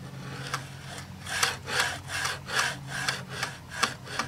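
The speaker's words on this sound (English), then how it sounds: "Run a putty knife across there, looking for high spots. You'll hear a click if something's high." A putty knife scrapes over Bondo filler on a pitted steel exterior door in a steady series of about eight rasping back-and-forth strokes, close and moderately loud, with no talking.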